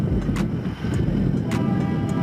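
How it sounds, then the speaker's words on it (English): A diesel train engine rumbles close and loud in a heavy, continuous low drone, with a few brief bursts of higher hiss over the steady roar. "Diesel train."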